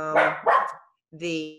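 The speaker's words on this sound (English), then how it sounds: "Sorry for my dog." A pet dog barks during an online community meeting, a few sharp close barks mixed with a person talking, then a short pause before another bark.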